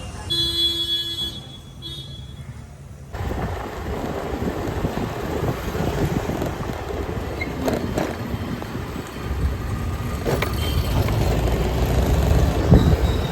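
A train rumbles past close by with a steady rolling clatter and rising noise, wind buffeting the microphone, and faint squealing toward the end.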